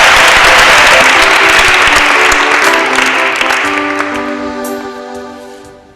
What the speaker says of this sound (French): On va applaudir pour le Père.